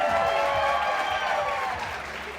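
A live art battle audience in Wichita Falls gives a round of applause, a dense wash of clapping that stays steady and then thins slightly toward the end.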